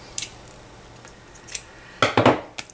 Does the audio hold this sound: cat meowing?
no